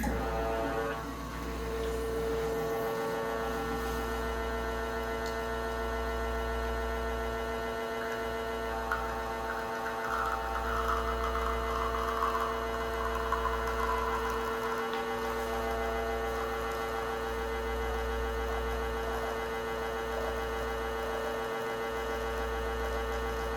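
Home espresso machine pulling a shot with a puck screen in place, a steady low pump drone and hum close by that pulses at regular intervals, with no talking.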